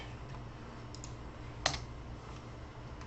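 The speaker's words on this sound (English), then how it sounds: "So if I start typing someone's name in here" Faint keystrokes on a computer keyboard as a name is typed into a search filter, a few soft scattered clicks with one sharper tap over low room hum, no talking.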